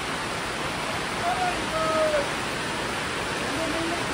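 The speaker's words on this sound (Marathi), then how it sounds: "खूप म्हणजे खूप जोरात पाऊस पडत आहे." Heavy rain pouring in a dense, steady roar at Kedarnath, with faint tonal sounds briefly rising above the downpour.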